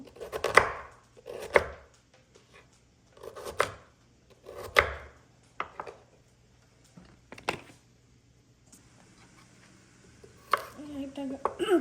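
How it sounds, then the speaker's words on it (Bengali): Knife cutting a guava into small pieces on a board, with about ten sharp, separate chops at an uneven rhythm, close by and fairly quiet, with short pauses between them. "আমি এখান থেকে অর্ধেকটা পেয়ারা নিব, ছোট ছোট করে কেটে নিব।"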